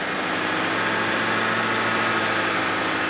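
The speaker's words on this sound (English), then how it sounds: "So there's the motor running." A 2013 VW GTI 2.0L turbo engine idles steadily with a continuous low rumble and hiss, unchanging throughout, with no voices.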